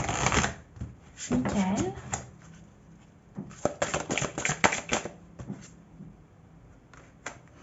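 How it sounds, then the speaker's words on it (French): Archangel oracle cards are shuffled and drawn by hand, giving quick riffling and snapping bursts close by, mixed with a woman's soft speech between them. "je vais vous tirer une carte de l'archange"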